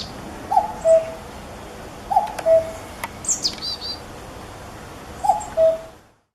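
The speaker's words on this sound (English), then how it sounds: "Cuckoo." A cuckoo repeats its two-note call three times at an even pace, clear but slightly distant over a steady outdoor hiss, with a few faint chirps from other birds in between.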